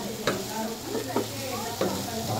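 Sisig lechon sizzling in a hot pan as it is mixed, steady frying crackle with a few distinct scraping stir strokes, close and fairly loud.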